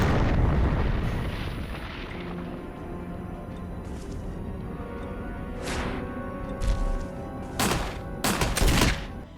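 In the Resident Evil video game, the Tyrant bursts through the floor with a loud rumbling crash at the start that fades into a low drone. Several sharp bangs and impacts follow near the end.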